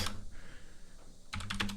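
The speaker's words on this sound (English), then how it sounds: "Wow, I've got to love my typing." Rapid computer keyboard typing, a short flurry of crisp clicks at the start, a brief lull, then a denser burst of keystrokes, close and clear with no talking.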